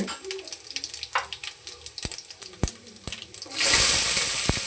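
Fennel and cumin seeds dropped into hot oil for a village-style country chicken curry: scattered crackles and taps, then a sudden loud sizzle swelling near the end.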